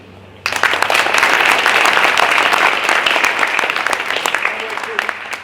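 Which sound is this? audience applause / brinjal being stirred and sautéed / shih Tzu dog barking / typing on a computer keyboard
audience applause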